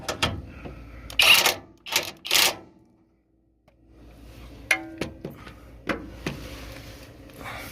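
Torque wrench tightening oil pan bolts on a 2003 Chevy Tracker, heard as a run of sharp metallic ratcheting clicks, a brief silence, then scattered close clicks and taps.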